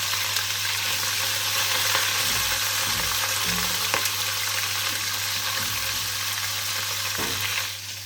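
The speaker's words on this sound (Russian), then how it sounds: "пока обжаривается мясо" Meat fries in a pan with a dense, steady sizzle close by, a low hum underneath and a few soft knocks, fading slightly at the end.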